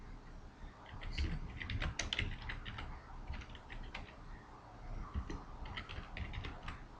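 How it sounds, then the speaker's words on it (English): Fingers type on a computer keyboard in quick, irregular bursts of light clicking keystrokes, close and fairly soft, with brief gaps between runs. "If I was to type more words into the same text,"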